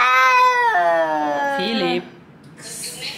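A house cat yowls in a long, loud, wavering cry during a standoff with another cat at a doorway, then falls quiet, with a person talking briefly afterward.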